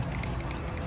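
A short hiss of car cleaning product sprayed from a bottle onto a Honda Civic, close up and steady, lasting under a second.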